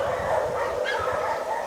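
A crowd of more than 70 dogs kept together in a residential yard barks and yips continuously, a dense, overlapping din heard from a short distance.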